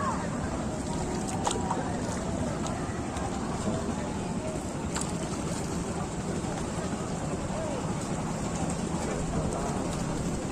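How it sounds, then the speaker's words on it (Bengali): Light drizzle falls on a boat out on the Tanguar Haor wetland, a soft continuous patter and hiss with occasional faint ticks of drops and murmuring voices in the background. "ওই জায়গায় অলরেডি বৃষ্টি পড়তেছে, ঝিরিঝিরি বৃষ্টি পড়তেছে"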